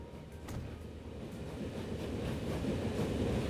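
A train runs along the line in the Transport Fever 2 video game, a steady low rumble that swells slightly as it continues without a break.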